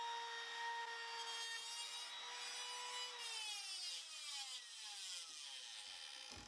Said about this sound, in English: getting ready for the V groove with the trim router